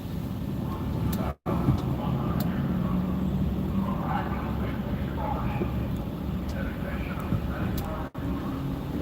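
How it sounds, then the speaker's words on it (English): A large truck rumbles steadily on a road nearby, its low engine drone continuous, with a person talking over it. "there's a big truck right over here."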